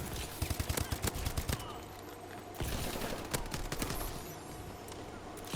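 Rapid bursts of HBR A3 rifle fire in the video game Call of Duty: Advanced Warfare, close and sharp, in quick clusters separated by short pauses amid busy game noise.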